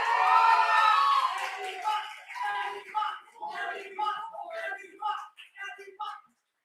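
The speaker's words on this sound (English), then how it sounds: "That got a huge cheer from the crowd." A student crowd at a mechatronics lab challenge award announcement cheers and whoops after a team is named, a loud burst of voices that breaks into scattered shouts and fades out.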